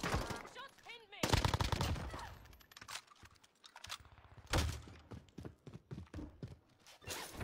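Gunfire in Apex Legends crackles in rapid bursts and scattered single shots, mixed with game effects while a player talks over parts of it.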